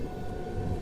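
A local train near Chennai Central gives a steady, close low rumble that lasts the whole short moment, with no voices.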